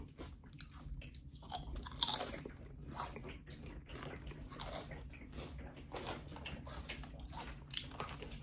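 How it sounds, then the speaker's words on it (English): Crisp chips seasoned with black pepper are bitten and chewed up close, giving a steady run of loud crunches with a few sharper bites. "But these are crunching like they're kettle cook."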